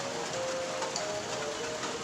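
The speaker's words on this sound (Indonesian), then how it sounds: "Cuma hujan dia teh." Steady rain makes a dense, even hiss, with faint ticks of drops landing on a surface. The wash of sound holds constant throughout and no one speaks.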